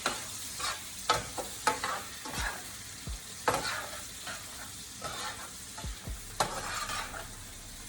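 Cajun shrimp gets stirred in a seasoned, spice-laden sauce, a spoon scraping and clacking against the pot in quick irregular strokes over a soft, low sizzle.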